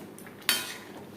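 A lid set down on a pot of moong dal cooking on a gas stove gives one sharp metallic clack with a short ringing decay, heard alone in a quiet kitchen.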